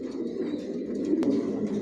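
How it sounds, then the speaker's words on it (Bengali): Racing pigeons, silver racers, coo softly in a loft, a low murmuring burble with a faint chirp, quiet and steady without any voices. "টপ কোয়ালিটির কবুতর পালি"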